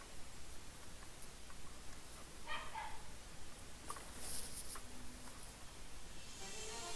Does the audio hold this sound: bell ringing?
no